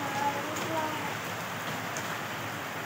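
Steady rain patters down in an even, continuous hiss of drops on surfaces, moderately loud and unbroken throughout.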